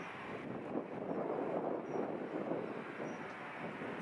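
A plane accelerates down the runway at Edinburgh airport, a steady broad roar that holds at a constant, moderate level from a distance, with wind rumble mixed in.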